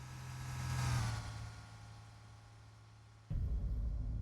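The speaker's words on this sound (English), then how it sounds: "You get a proper Doppler effect now." Passing traffic in American Truck Simulator swells toward a peak and fades with a falling Doppler pitch, then a louder, close engine rumble cuts in abruptly near the end.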